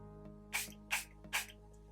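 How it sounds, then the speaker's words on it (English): Setting spray misted onto a makeup brush in three short, soft hissing bursts close to the microphone, evenly spaced against a quiet background. "I'm gonna spray the brush while it already has the product on it"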